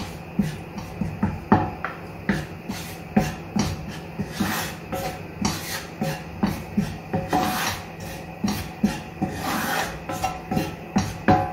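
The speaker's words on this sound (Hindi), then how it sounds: "बराबर चलाते हुए रोस्ट कीजिए।" Maida flour is stirred continuously while it dry-roasts in a pan for seekh kebabs. Rhythmic scraping strokes repeat about twice a second, close and clear, with no talking.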